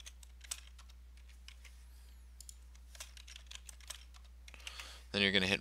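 Steady light tapping of keys on a computer keyboard as an email and password are typed at a desk, close and quiet, ending with a brief louder burst of noise.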